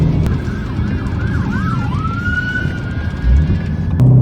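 A police-style siren wails and sweeps up and down, rising over steady traffic rumble, then settles into a sustained tone as it draws near.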